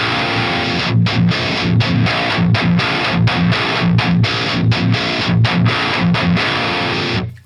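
Electric guitar through a Fortin Killer Kali preamp with its extreme mid boost engaged, playing a heavily distorted, tightly palm-muted metal riff with steady chugging rhythm and short stops, loud and close with no talking.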